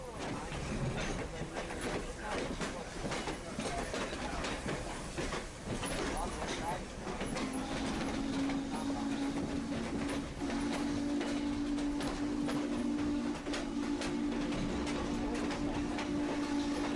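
Diesel switcher locomotive 9618, decorated as Mavis for a Thomas and Friends Halloween event at Strasburg, rumbles steadily nearby with a sustained engine drone and a low tonal hum rising partway through, amid mechanical clatter and background voices.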